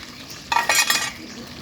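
A katla fish curry is stirred and sautéed in a pan: a short burst of spatula scraping and sizzling in two quick strokes over a quiet background.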